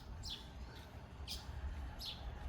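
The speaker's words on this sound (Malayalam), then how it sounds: "കിളിയുടെയൊക്കെ സൗണ്ട് കേൾക്കാം." At a farm villa in Jeddah, Saudi Arabia, faint birds chirp in three short, distant bursts over a low outdoor background hum.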